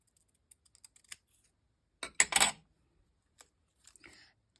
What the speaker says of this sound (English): I'm going to cut 2 to start so we can get our center placement down.